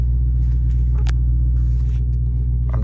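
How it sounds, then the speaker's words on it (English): Deep, steady idle rumble of a Dodge Charger Hellcat engine warming up, close and constant, with a few faint clicks and rustles on top and no talk. "I'm just letting the car warm up."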